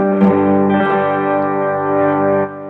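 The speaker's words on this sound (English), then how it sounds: "now you hear a little distortion" Ibanez AZES electric guitar played through distortion, a single sustained chord ringing with thick, buzzing overdrive for a couple of seconds before cutting off.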